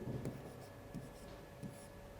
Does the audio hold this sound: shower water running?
no